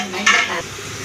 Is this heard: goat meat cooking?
yes